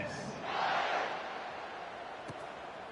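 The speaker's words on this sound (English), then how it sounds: "this crowd is buzzing after that last score" A football stadium crowd buzzes after a score, a dense, distant roar that swells briefly and then settles into a steady murmur.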